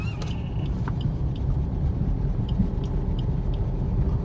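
A car engine hums low and steady from inside the cabin while driving, with faint clicks and light knocks near the start as the driver shifts into third gear. The steady rumble continues throughout without speech.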